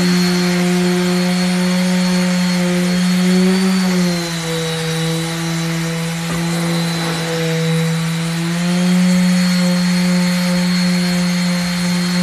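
A steady power sander drones continuously on a wooden cutting board, its pitch dipping briefly in the middle, with no talking.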